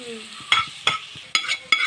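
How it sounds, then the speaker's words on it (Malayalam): Grated coconut dry-roasts in a pan without oil for Kerala-style theeyal, with four sharp scraping stirs at an uneven pace over a soft background sizzle. "ഞാൻ ഇവിടെ തേങ്ങ വറക്കാൻ തേങ്ങയ്ക്കകത്ത് ഒരു പുള്ളി എണ്ണ പോലും ഒഴിച്ചിട്ടില്ല"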